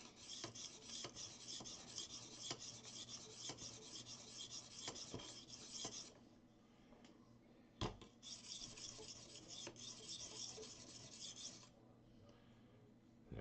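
A Spyderco knife blade is drawn across a sharpening stone in long, steady rasping strokes, a couple of rough passes separated by a short pause and a sharp tap, close and fairly quiet with no talk.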